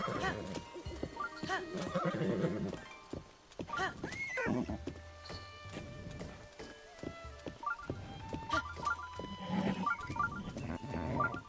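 Horse in the video game Zelda Breath of the Wild, with repeated neighs and whinnies over clip-clop hoofbeats, several distinct calls spread across the stretch, close and clear with game music tones.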